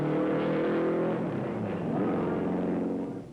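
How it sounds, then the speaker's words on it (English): The Novi race car engine roars and revs steadily, loud and sustained, with a slight rise in pitch as it accelerates. "He stroked the powerful engine for a lap or two"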